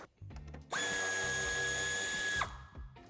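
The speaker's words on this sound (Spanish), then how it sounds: "este es el tornillo que tenemos que quitar" A power tool unscrews a fastener on a 2021 facelift Range Rover Evoque (L551) during tow hitch fitting: one loud, steady whine lasting under two seconds, starting and stopping abruptly between quiet handling noises.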